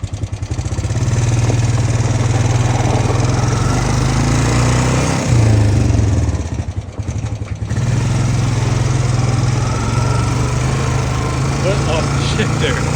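A Honda Rancher 420 ATV, recently repaired after heavy smoking, runs with a steady loud engine drone, close by, dipping briefly mid-way before settling back to an even idle, with people talking nearby.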